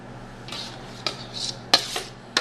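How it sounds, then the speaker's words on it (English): A spoon scrapes and clinks against a pan while sauerkraut mix is spooned over rolled stuffed cabbage: about five short, close metallic scrapes and taps with soft wet shuffling between them. "we're just going to top it off with our sauerkraut mix now"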